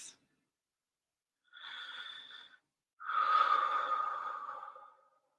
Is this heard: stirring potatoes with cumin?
no